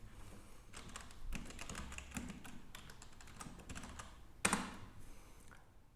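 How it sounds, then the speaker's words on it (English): Typing on a computer keyboard during a Telegram messaging test: a fast, steady run of soft key taps at moderate level, ending with one sharper, louder keystroke like a final enter press, with no talk. "let's type something."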